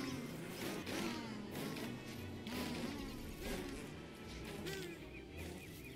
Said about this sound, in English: It's the killer bees you want gone.